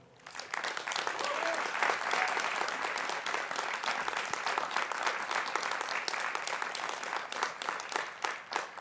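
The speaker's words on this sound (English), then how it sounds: "Let's all applaud this happy day." Audience applause for a graduating class of 2020 and 2021 at a school ceremony, a dense, sustained clapping from many hands that swells quickly and holds steady for nearly nine seconds, with a faint voice briefly audible early on.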